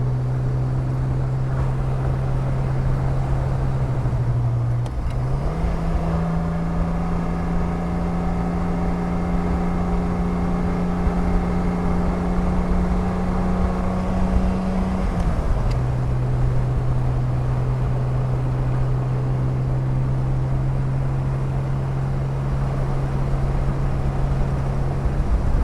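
A 1973 Triumph TR6 with overdrive is driven on the road. Its steady engine note drops and climbs again at two clean gear shifts, heard from inside the car with no talking.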